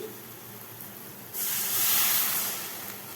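A loud burst of sizzling hiss swells up as water is poured into a hot pan of onions and tomatoes after a quiet stretch, holding steady for a second or two before easing slightly.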